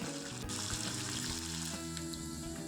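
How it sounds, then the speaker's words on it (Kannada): Chopped onion fries in oil in a pan, giving a steady soft sizzle with faint stirring scrapes, close by but fairly quiet, without voices. "ಇದನ್ನು ಕೂಡ ಚೆನ್ನಾಗಿ ಫ್ರೈ ಮಾಡ್ಕೊಳ್ಳೋಣ."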